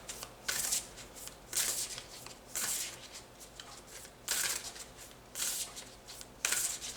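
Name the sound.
shuffling Divine Feminine Oracle cards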